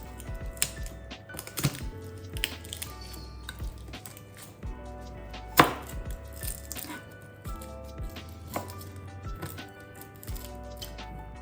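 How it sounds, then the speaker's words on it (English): Garlic being chopped into small pieces on a board for spicy peri peri chicken, a run of quick, irregular knife taps and clicks, some sharper than others, with no voices. "Then chop it to small pieces."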